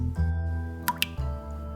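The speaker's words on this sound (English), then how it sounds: "as the water drips into it." A roof leak in a building corner dripping into a quarter-full bucket, with two or three distinct drips landing in water over a steady low hum, close and clear, with no talk.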